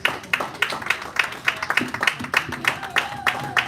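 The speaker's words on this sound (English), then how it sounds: "Please a round of applause" An audience at a film industry conference session applauds with a dense, steady run of close hand claps that lasts the whole stretch.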